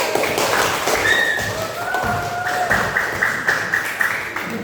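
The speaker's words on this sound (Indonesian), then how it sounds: "Beri tepuk tangan untuk kita semua." A group in a teacher training session on deep learning for the Surakarta education office claps together, a short burst of close, uneven applause with some thumping taps.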